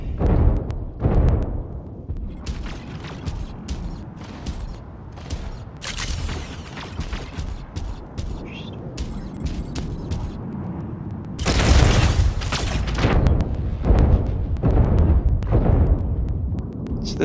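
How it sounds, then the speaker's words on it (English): Repeated mortar fire in the video game Arc Torrent 12: a string of deep booms and explosions with rattling mechanical clatter between them, a heavy burst of blasts near the end. "he's just mortar spamming now"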